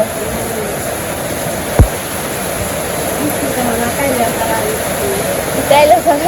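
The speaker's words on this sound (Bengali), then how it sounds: "বৃষ্টি" Continuous rain pours in a village with a constant rushing hiss, a brief thump, and voices talking faintly under the downpour.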